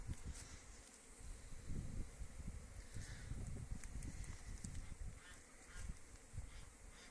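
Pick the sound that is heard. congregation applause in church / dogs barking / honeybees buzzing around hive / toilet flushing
honeybees buzzing around hive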